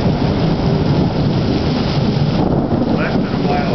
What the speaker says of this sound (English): there might be a lot of thunder and lightning